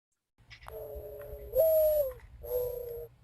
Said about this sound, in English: That was a turtle dove, mourning dove.